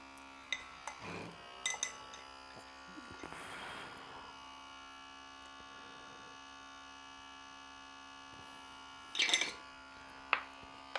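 Small handheld smoking gun loaded with wood chips runs with a steady electric motor hum and whirring drone while blowing smoke into a jar for smoked salmon salad, joined by a few sharp clinks and knocks of glass.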